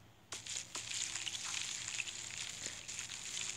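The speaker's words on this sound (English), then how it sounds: "Let's fry this baby up." Frying food in the Toca Kitchen 2 video game gives a steady bright sizzle that holds from start to finish, with a few sharp clicks near the start and mid-way, and no talking.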